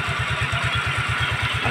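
A Rusi Gala motorcycle engine runs steadily during carburetor tuning, with a fast, even low-pitched pulsing beat, close and loud, and no one talking.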